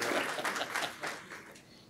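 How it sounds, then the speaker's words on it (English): Audience applause at an awards gala honoring the judges, a dense steady patter of many hands that gradually thins and softens toward the end. "So I think a big round of applause for our wonderful and esteemed judges."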